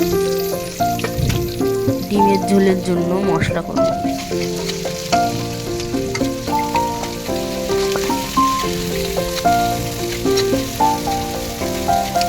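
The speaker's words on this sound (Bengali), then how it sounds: "এদিকে আমি কড়াইতে জিরে, শুকনো লঙ্কা ও তেজপাতা ফোড়ন দিয়ে পেঁয়াজগুলো দিয়ে দেবো।" Onions frying in oil in a kadai with cumin, dried chilli and bay leaf: continuous close crackling sizzle with occasional stirring scrapes, while someone speaks over it.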